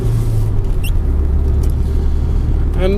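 A stock BMW E36 318 with 115 hp and an open differential drifts sideways, its engine a loud, steady, close rumble held throughout.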